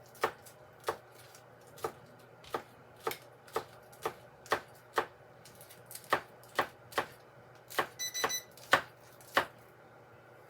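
Green onion chopped with a knife on a cutting board, a steady series of crisp, evenly spaced taps close up, quickening into a tighter cluster near the end.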